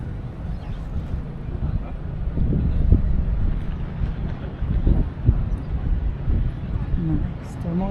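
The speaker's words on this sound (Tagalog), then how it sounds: "Kasdang hangin." Strong wind buffets the microphone outdoors in Taiwan in a low, gusty roar that swells and fades unevenly, with people speaking over it.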